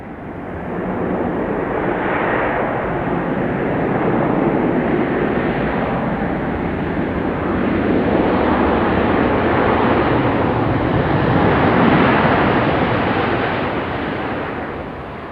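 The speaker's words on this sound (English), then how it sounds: "Another American 737 touching down here." An American Airlines Boeing 737 touching down at Raleigh-Durham International Airport, a loud, steady roar of engine and rushing air that swells and holds throughout, heard from nearby with no talk.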